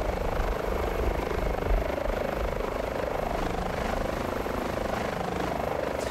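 Helicopter engines idle in a steady, continuous whine and low rotor thrum, close and unbroken with no talk.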